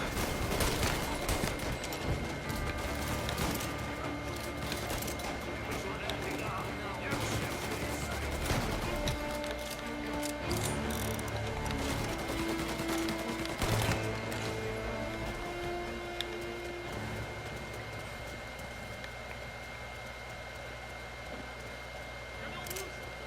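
Machine gun fire in a shooter video game rattles on in dense bursts under steady game noise and music, with occasional sharper shots and a voice talking over it.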